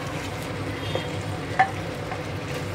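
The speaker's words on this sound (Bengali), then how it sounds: "সব পড়ে গেছে, শুধু নুনটা দিয়ে একটু কষাবো।" Meat is stir-fried with salt in a hot pan, giving a steady low sizzle with occasional soft scrapes and one brief louder clack of the spatula.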